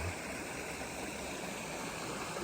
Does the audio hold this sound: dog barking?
no